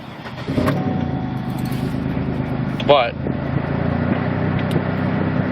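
A Pontiac Grand Prix (2004–2008 era) idles with a steady engine rumble and the whir of its blower motor, continuous and close, with a brief mechanical squeal near the middle and a voice speaking over it.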